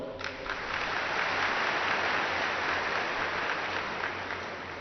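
An audience claps together at a spiritual gathering in Hindi, a steady wash of hand clapping that swells in and holds evenly for several seconds, fairly distant and soft.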